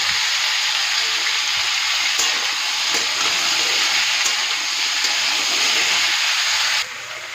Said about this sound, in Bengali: আলু পেঁয়াজ একসাথে ভালো করে ভেজে নেবো